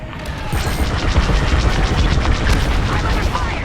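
Enemy blaster fire and explosions rattle through a Star Wars Squadrons campaign battle, a continuous loud barrage of booms and rapid shots.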